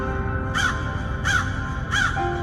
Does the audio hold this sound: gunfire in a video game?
no